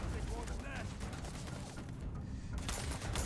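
Rapid gunfire and a muffled blast from a grenade in the Starfield video game, dense and continuous, with a voice talking over the combat.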